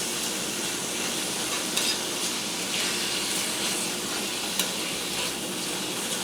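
Pork chow mein of vegetables and meat with reduced lo mein noodles sizzles and hisses in a hot pan, a steady frying bed broken by occasional stirring scrapes and clatters, with no voice.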